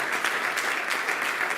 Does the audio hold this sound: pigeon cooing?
no